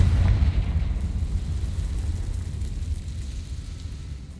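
A Confringo fire spell bursts in Hogwarts Legacy, a deep booming blast with a low rumbling tail that fades slowly, loud and close, with no talking.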